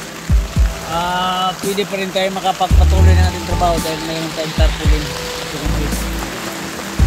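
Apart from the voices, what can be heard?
rain falling outside during a storm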